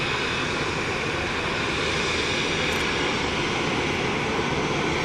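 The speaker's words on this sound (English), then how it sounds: "Jeju Air pushing back here." A Jeju Air Boeing 737-800 airliner pushes back at Gimpo Airport with a loud, steady jet-engine roar that holds constant throughout and has no talking over it.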